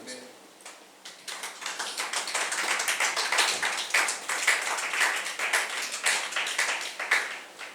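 A church congregation applauding Jesus during a sermon: dense, steady clapping from many hands builds quickly and holds, with a busy rattle of overlapping claps and voices mixed in.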